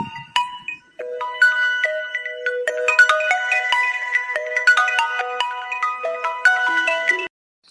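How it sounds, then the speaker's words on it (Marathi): A mobile phone ringtone plays a bright melodic electronic tune of rising and falling notes, loud and close, running for several seconds before cutting off abruptly. "आता कोणाचा फोन आला?"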